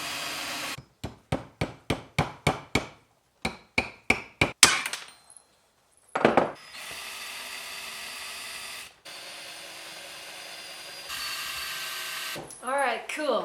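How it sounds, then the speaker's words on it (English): A nail is hammered into a deer antler: two quick runs of sharp, evenly spaced metallic blows, followed by the steady whine of a drill boring into the antler, all close up and alone. "drill a hole straight down so then I can pound a nail in"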